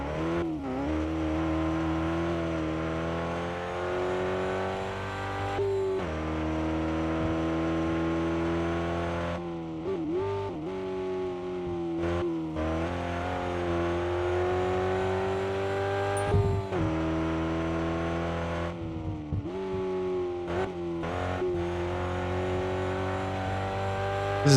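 Race car engine in the RevHead video game, driving on dirt with a flatbed on the back, droning steadily throughout with repeated revs and gear shifts, loud and close with no talk.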